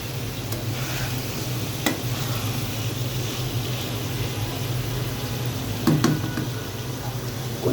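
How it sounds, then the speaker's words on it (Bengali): Beef liver with potatoes and chana dal being stir-fried in a pan, a continuous sizzle under occasional sharp knocks of a spatula against the pan. "সেজন্য আমি কলিজাটা অনেকক্ষণ কষে নেব,"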